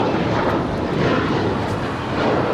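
An airliner landing on runway 25 left at Los Angeles International Airport, a steady loud broadband jet roar that holds evenly throughout without a break.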